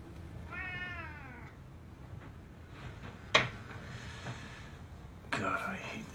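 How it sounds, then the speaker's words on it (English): A cat gives a single drawn-out meow early on, followed by faint rustles and a couple of sharp clicks in a quiet room, with soft background sounds throughout. "Be careful with that cat."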